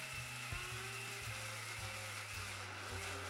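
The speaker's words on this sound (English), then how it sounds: "After which you'll mix and grind in a coffee grinder until you start to hear this sound." A coffee grinder whirs and grinds steadily throughout, with a motor pitch that shifts slightly in short bursts, close and continuous with no voices.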